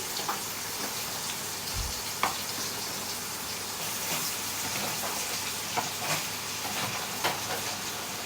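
Potatoes fry in hot oil in a pan while chow mein is cooked in a home kitchen, producing a continuous broad sizzle with a handful of sharp taps and scrapes from stirring.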